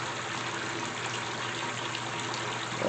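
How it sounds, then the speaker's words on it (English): Water inside a GE top-loading washer pours and trickles in a steady, continuous rush as fabric softener drains through the agitator holes, with no voices. "what the softener does is that it drains from here and it comes out those holes into the water."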